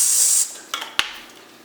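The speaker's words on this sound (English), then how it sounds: "We're going to take some cooking spray" A short burst of cooking spray hisses into a 9 by 9 baking dish, followed by a couple of light taps of the can or dish, close and alone.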